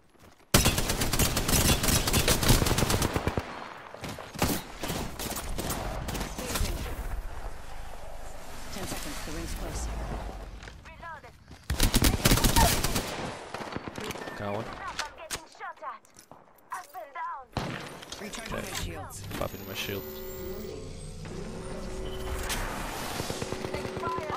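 Gunfire in an Apex Legends match, with dense bursts of rapid shots and repeated single cracks in clusters that pause and resume, loud and close, mixed with players talking.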